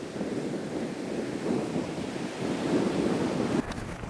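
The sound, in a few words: Indian Ocean waves and wind at Shell Beach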